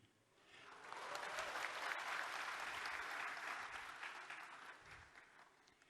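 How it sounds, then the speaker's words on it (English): An audience applauds at the closing ceremony of the 10th World Water Forum in Bali. The clapping swells quickly, holds steady and full for several seconds, then gradually fades. "Don't applaud too much, it's not finished."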